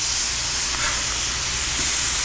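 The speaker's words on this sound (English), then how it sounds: "Oh yeah, hear that sizzle" Trigger fish sizzling in a hot pan, a loud, steady, broadband hiss that runs without a break across the whole moment, with no voices over it.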